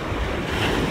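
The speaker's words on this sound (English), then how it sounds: "Whoa, look at those waves." Ocean surf washes onto a North Carolina shore in a loud, continuous roar of broadband noise with heavy wind buffeting, all within a brief moment.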